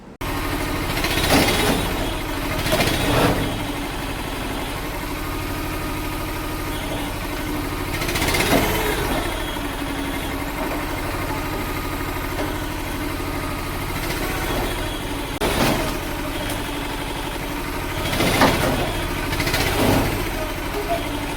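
A small wood-splitting machine engine runs steadily with a droning hum, surging louder every few seconds in regular bursts; faint talk is mixed in.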